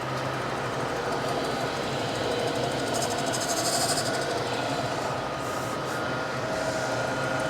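A grinding wheel works metal slowly and cautiously on a Gallmeyer & Livingston No. 55 surface grinder, giving a steady, continuous close-up grinding hiss with a low motor hum underneath, holding even throughout with no talking.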